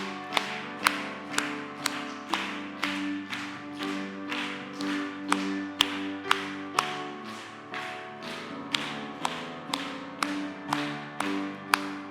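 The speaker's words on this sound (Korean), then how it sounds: "박수 치면서 할까요?" A church congregation claps along to a hymn at a Korean worship service, sharp evenly spaced hand claps in a steady rhythm over sustained singing and instrumental tones.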